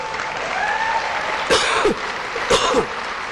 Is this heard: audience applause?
yes